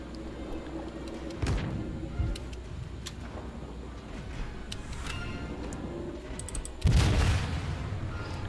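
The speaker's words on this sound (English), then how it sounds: "Now I'm shooting HE." Warship guns in World of Warships fire high-explosive shells, producing two heavy booming salvos several seconds apart over a constant low engine and sea rumble.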